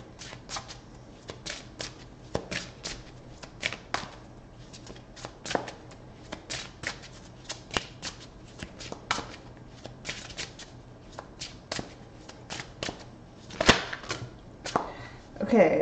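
Tarot cards shuffled by hand in a steady run of quick riffling bursts, close and fairly quiet, with a few louder flurries near the end and no talk.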